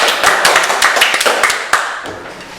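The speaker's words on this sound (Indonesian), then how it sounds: "Tepuk tangan untuk tamu kita saat ini, Sastra Siregar." Applause from a small studio audience greeting a guest on an Indonesian podcast, a run of sharp hand claps and taps close by with no talking over it.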